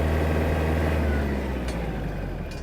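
A Mitsubishi MT-285 four-cylinder mini tractor runs its engine and exhaust at a smooth, steady idle close by, a continuous low rumble with no breaks and no talking.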